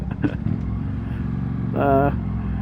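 A motorcycle exhaust burbles at close range and briefly revs up near the end, with a voice speaking over it at the start.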